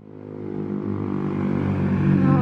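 Motorbikes pass on a mountain road through an old pine forest, an engine drone building steadily louder as it approaches, with no voices.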